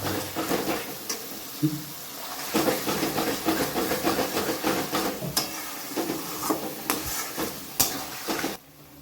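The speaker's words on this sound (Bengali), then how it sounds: "ওতে আবার মশলাটার মধ্যে জল দিয়ে আমরা এই এক্সট্রা মশলাটাকে দিয়ে দেবো" Water poured into masala frying in a pan makes a loud, continuous sizzle and steamy hiss close up, broken by repeated scraping stirs of a spoon that fall quiet only at the very end.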